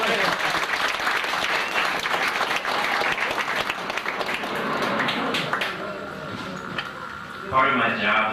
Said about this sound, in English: Please, round of applause here.